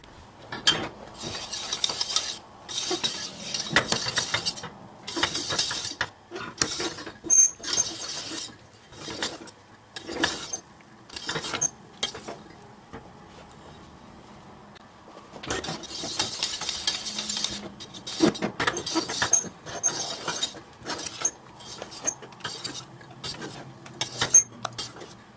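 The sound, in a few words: continuously stirring Turkish delight (lokum) while cooking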